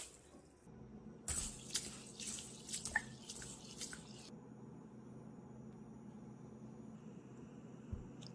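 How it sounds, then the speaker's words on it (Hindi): Basmati rice being rinsed in water: running tap water and splashing with soft drips, close and fairly faint, alone with no talk. "चावलों को हम दो तीन पानी से धो लेंगे।"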